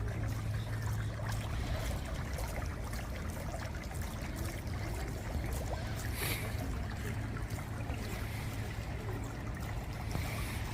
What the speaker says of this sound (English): And here you've got a water fountain, which is nice.